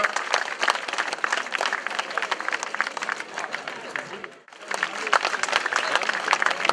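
Crowd at the Essor breton 2015 cycling race finish in Plougourvest applauds a rider, a steady dense clapping with a brief dip midway before resuming, with a voice talking over it.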